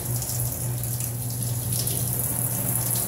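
Tap water runs steadily over hands and forearms at a sink during a surgical scrub with betadine, a continuous near hiss with a low hum beneath, no talking.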